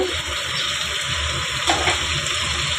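Broth is poured into a fish and eggplant curry in the pan, making a continuous rushing, splashing pour that lasts the whole moment.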